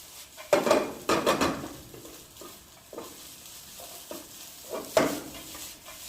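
Shrimp fried rice being stir-fried in a pan makes a low background sizzle, cut by repeated loud metallic scrapes and clanks of a spatula tossing the rice, close up and without speech.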